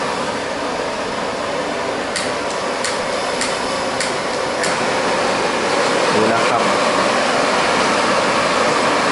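A Lucky Flame KB-5 high-pressure gas stove burner running, a steady loud rushing hiss of flame throughout, with a few faint ticking clicks early on and someone talking over it.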